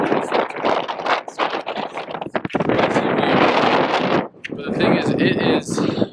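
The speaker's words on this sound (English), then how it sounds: "It is windy up here." Strong wind gusting across a high, exposed ridge of Longs Peak in the Rockies, roaring and buffeting close to the microphone, with a brief lull before the rushing resumes.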